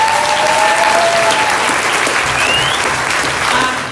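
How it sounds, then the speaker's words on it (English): A crowd at a Taipei community forum breaks into loud, dense applause that fills the room and holds steady before starting to ease off at the end, with a few voices calling out over it. "I want you guys to all just give yourself a huge round of applause."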